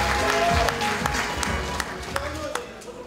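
An audience applauds at a Democratic Party South Chungcheong provincial delegates' convention, steady clapping carried under a speaker's amplified voice, fading slightly toward the end.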